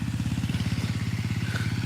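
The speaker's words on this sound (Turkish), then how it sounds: "Şu anda traktör yaklaşıyor." A tractor mowing grass drones close by, its engine pulsing in a steady rapid chugging rhythm, loud and continuous with a faint rattle over the top.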